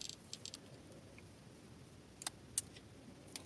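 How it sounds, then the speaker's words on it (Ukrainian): Disc tray of a Panasonic RX-ES CD drive closing during repair, a few faint, sharp mechanical clicks scattered over a quiet room hiss, close by, with no speech. "Є таке клацання, то зараз спробую, щоб ви почули."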